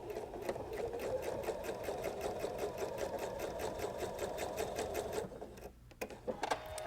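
A sewing machine stitches a seam through bulky fur fabric with a heavier needle, a steady fast mechanical rattle of needle strokes running for several seconds before stopping, followed by a few faint handling clicks.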